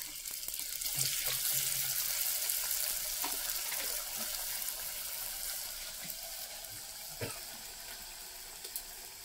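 Palm-fruit pitha deep-fries in oil, giving a steady, dense hiss and bubbling that runs unbroken throughout, with a few faint clinks and no speech.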